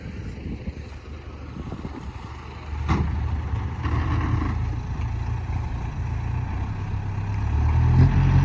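GAZ lorries with engines running and driving nearby, a rumbling low drone that rises and falls with a few knocks and clatters, growing louder toward the end, no talk.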